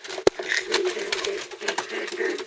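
An agitated pigeon in a Saudi Arabian setting coos and grumbles in low, repeated bursts, close to the listener, with a sharp knock near the start and some background rustling.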